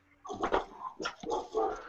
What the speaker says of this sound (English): besides the dogs barking up a storm